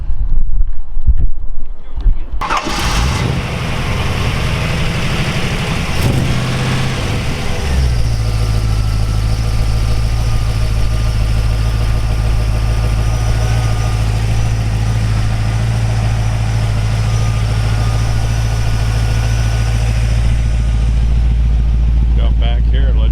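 A 1955 Oldsmobile Super 88 with a ZZ4 350 V8 cranks over, catches and settles into a steady, loud, rumbling idle heard up close that runs on for about twenty seconds, with a voice talking over the start.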